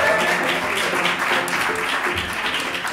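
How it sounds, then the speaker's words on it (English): A stand-up comedy audience applauds steadily in a theater, a continuous wash of clapping filling the room without pause. "Give a big round of applause"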